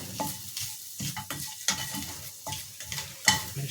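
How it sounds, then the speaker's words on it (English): Beaten egg stirred and scrambled in a hot frying pan, a steady sizzle broken by repeated scraping strokes of a utensil at close range, with no talking. "Turn it into a scrambled egg now."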